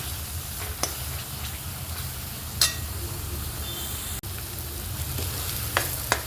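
Masala paste fries in oil over a low gas flame for chicken rassa, a steady soft sizzle with occasional clicks of stirring and a low background hum, close and even, without talk.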